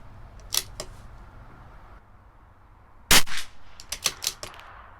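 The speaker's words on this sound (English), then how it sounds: "My camera just fell over" A camera tipping over at an outdoor rifle range, a sharp broadband clatter at about three seconds followed by a few smaller knocks and rattles as it settles, after quieter scattered taps over steady background noise.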